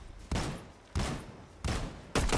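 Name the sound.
gunfire in the video game Fortnite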